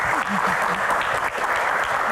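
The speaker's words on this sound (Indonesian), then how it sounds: "Tepuk tangan lagi, teman-teman" A crowd claps steadily at an Indonesian Q&A gathering, dense applause filling the whole stretch with faint voices underneath.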